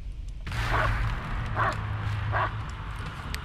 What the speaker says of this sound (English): Where are you barking?